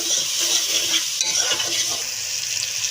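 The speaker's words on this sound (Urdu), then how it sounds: "کچھ دھنیا ڈالیں گے اس میں 1 چمچ اور اچھی طرح سے اس کو مکس کر لیں گے۔" Spices and coriander are stirred into red lobia in a pot, giving a continuous scraping, sizzling hiss and the occasional light clink of a spoon against metal, with no voices.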